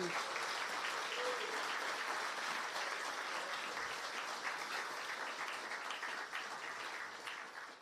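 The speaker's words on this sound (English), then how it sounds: "A round of applause for them." A sustained round of applause for event staff fills a hall at a service excellence awards evening, dense and steady before thinning slightly at the end.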